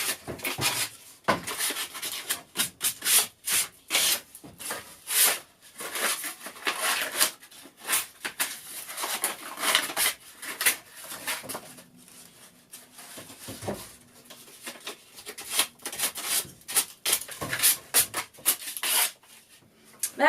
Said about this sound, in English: use a little bit of sandpaper just to take off those edgy bits